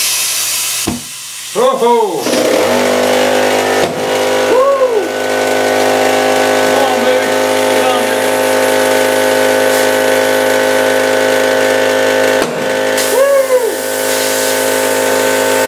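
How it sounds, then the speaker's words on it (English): An air gun nozzle blasts air into a tire on a manual tire changer to seat the bead, giving a loud, continuous close hiss with brief breaks and a sharp pop, while a man exclaims over it. "I'm just going to try to use an air gun nozzle to get a lot of air in there at once"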